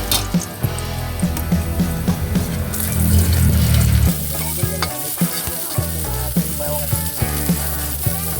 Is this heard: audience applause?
no